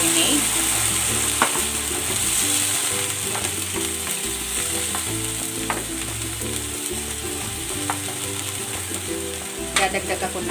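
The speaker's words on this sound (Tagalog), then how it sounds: "ibubuhos ko na dito yung pinagbabaran ng chicken," Chicken marinade is poured into a hot pan and sizzles loudly and continuously, with stirring scrapes and crackling throughout and a few sharper clicks near the end.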